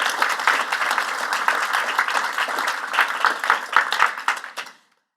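Audience applause at a health demo day event, a full sustained round of many hands clapping that holds steady, then fades out near the end.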